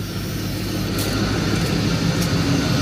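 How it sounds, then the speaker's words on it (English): A vehicle engine idling just after starting up, a steady, close, continuous drone with no talk over it. "Well then, started right up and it's idling."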